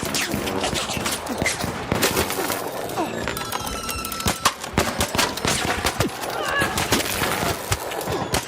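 Gunfire in ARC Raiders, including a Renegade rifle, sounds in sharp repeated shots and rattling bursts. The shots come at close to mid range, over steady game noise.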